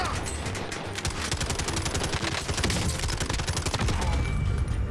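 Rapid automatic gunfire from an FFAR rifle in Warzone, dense continuous bursts of shots with booming impacts, loud and close throughout, with a voice briefly heard underneath.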